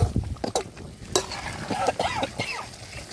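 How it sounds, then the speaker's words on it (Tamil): A spoon stirs a thick masala curry in a pan, scraping and sloshing in repeated strokes over a steady sizzling boil, close and moderately loud with no talking. "திருப்பி விட்டுட்டே இருக்கணும், அடி பிடிக்கக்கூடாது"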